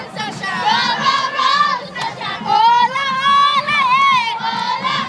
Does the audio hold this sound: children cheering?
yes